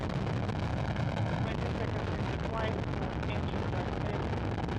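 Soyuz first-stage engines roar after a night liftoff with over 930,000 pounds of thrust, a steady dense rumbling wash throughout, partly under a commentator's voice.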